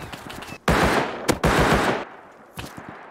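Bursts of automatic gunfire in the survival video game Rust, two loud sustained volleys of rapid shots close together, followed by a couple of quieter single shots.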